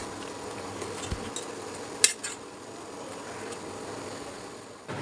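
Quiet sautéing of a fish head and tail in a pan with spices, a faint steady sizzle under a few metallic clinks of a spoon against the pan, with no talking.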